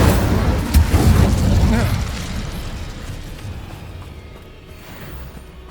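Incendio fire spell blast in the Hogwarts Legacy game, a loud booming burst with rumbling crackle that gradually fades into a quieter tail, heard alone.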